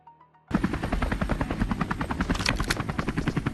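A helicopter in a battle royale game roars in abruptly after a brief quiet start, its rotor thumping in a steady rapid pulse, loud and close throughout.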